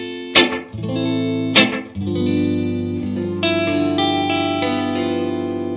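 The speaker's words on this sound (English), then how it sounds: "Neck pickup sounds great." An electric guitar played through a hum-cancelling neck pickup: two sharp plucked attacks, then sustained, ringing notes and chords with effects-laden reverb, played alone.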